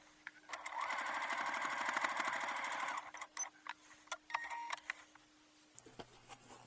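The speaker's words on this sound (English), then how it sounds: "I'm going to turn it around and sew this side down." A sewing machine stitching a seam on a wallet with a zipper pouch, running in a fast steady burst of rapid needle ticks for about two and a half seconds, then stopping, followed by scattered clicks and handling noises, close up.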